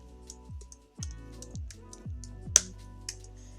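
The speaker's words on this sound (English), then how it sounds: "What I'm going to do, I'm going to type it." Keys tapped on a computer keyboard in a quick, irregular run of soft clicks with a few sharper strokes, close and alone with no talking.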